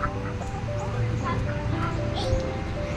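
Four ducks quacking in a busy homestead farmyard, several calls overlapping under people talking, with a steady background hum.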